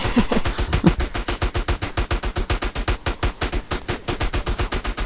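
Rapid automatic gunfire in Grand Theft Auto San Andreas, a dense continuous burst of evenly spaced shots, loud and close, running unbroken for several seconds.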